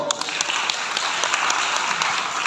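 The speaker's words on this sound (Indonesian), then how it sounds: "Boleh dong tepuk tangan untuk kita semuanya." A crowd applauds continuously at a public dialogue event, a dense steady clatter of many hands clapping at close range.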